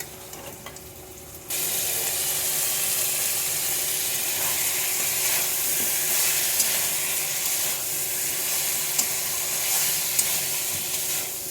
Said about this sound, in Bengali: সোয়াবিন আর মাংস এখন ভালো করে কষিয়ে নিতে হবে।